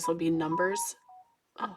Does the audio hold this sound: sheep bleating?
no